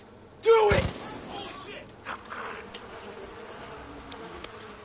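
Bees in the Far Cry 5 video game give a brief buzzing burst with a sharp thump, then fade into low background game noise.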